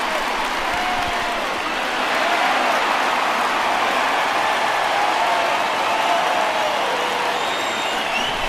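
A baseball stadium crowd cheers and claps in a broad, steady roar as the White Sox mascot Southpaw works them up, sustained and fairly loud throughout with no clear talk.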